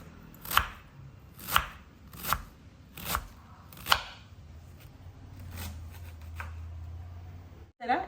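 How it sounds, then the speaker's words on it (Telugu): A knife chops cabbage finely on a cutting board, five crisp evenly spaced strokes followed by softer, quicker cuts, while a person talks in the background. "క్యాబేజ్ని సన్నగా కట్ చేసేసుకోవాలి ఫస్ట్"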